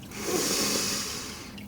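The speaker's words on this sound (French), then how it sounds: "Prenez une grande inspiration." A slow, deep inhalation during a yoga session, a close, airy rush of breath that swells and fades with no talk over it.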